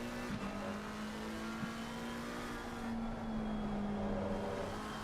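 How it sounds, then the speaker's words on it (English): A Mercedes race car in an endurance championship round at Suzuka, oversteering through a corner, gives a steady, sustained engine drone with a constant tonal whine throughout, moderately loud and unbroken. "the Mercedes getting all kinds of oversteer in the corner there"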